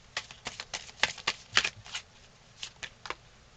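Tarot cards being shuffled and dealt, a quick series of crisp papery riffles and snaps in irregular bursts, close and fairly loud, with no talking.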